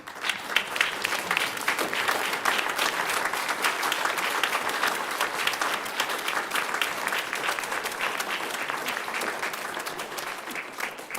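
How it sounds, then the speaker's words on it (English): Congregation on its feet giving a sustained standing ovation at a service of dedication, many hands clapping loudly and steadily for about eleven seconds, with faint voices mixed in. "Will you stand with me and just give a hand clap?"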